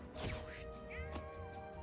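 Cats meowing in the video game Mewgenics, a few drawn-out, wavering cries close up over steady game background tones.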